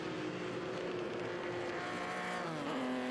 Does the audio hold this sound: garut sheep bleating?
no